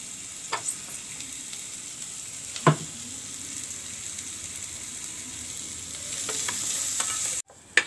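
Capsicum and beetroot fry in a pan for a pachadi, a soft steady sizzle with a few sharp stirring scrapes, close by, ending in a louder burst of frying before a cut.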